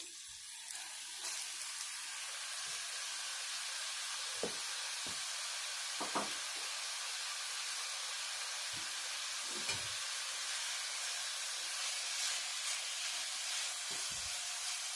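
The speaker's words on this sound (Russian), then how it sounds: "в разогретую сковороду выкладываю куриное филе, которое уже замариновалось" Marinated chicken fillet sizzling in a preheated frying pan, a steady close hiss with occasional faint pops and crackles running throughout, no voices.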